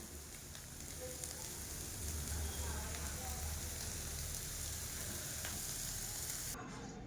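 Food frying crisp in a pan, a dense, steady crackling sizzle that holds at an even level throughout.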